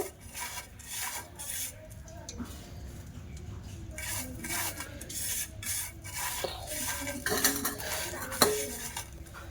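Mashed onion greens mixed by hand with salt and dried chili in a bowl, giving repeated squelching, rubbing strokes and occasional clinks against the dish, close and moderately loud.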